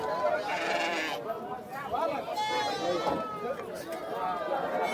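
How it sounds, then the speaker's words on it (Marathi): Goats bleat repeatedly at a busy livestock market in Lonand, with several animal calls rising over a constant crowd murmur and nearby people talking. "शेळ्या या ठिकाणी पाहायला मिळतात"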